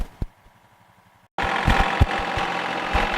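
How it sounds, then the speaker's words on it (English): Four-wheel-drive tractor engine fires up in cold winter weather after a quiet moment, settling into a loud, steady, rough idle with a few knocks and surges, close by. "we'll hop on a tractor and we'll go down to the other end here"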